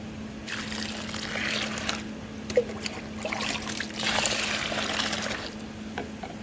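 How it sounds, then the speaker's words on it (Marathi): Water swishes and trickles as wheat grains are rubbed and rinsed in a bowl, with a steady low hum underneath. "पाणी टाकायचं आणि धुवून घ्यायचे"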